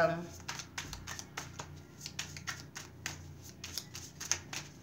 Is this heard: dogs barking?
no